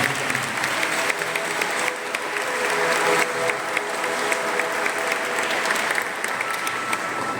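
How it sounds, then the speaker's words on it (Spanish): Congregation applauding during a Christmas-season aguinaldo Mass, a dense, even patter of many hands clapping at moderate volume for several seconds without talk. "Un gran aplauso en el día."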